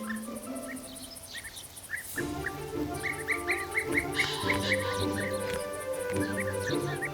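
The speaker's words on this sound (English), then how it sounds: "bee-eater that had died out in Germany began to frequent this area again" Bee-eaters calling in a German nesting area, short bright chirps repeating over a steady insect buzz, fairly close and continuous throughout.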